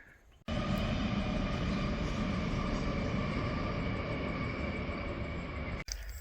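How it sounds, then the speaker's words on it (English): Train passing on the line near Cobbler's Pool on the Avon River in Western Australia, a sudden loud, broad rumble and roar that holds steady for several seconds before cutting off, close by with no talking. "lot of trains here at Cobbler's Pool."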